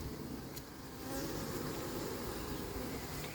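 A recovered swarm of honeybees hums low and continuously nearby, a soft steady buzz with faint passing whines from individual bees.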